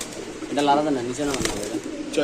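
Pigeons coo in a few rounded, rolling calls, close and fairly loud, with a person talking over them.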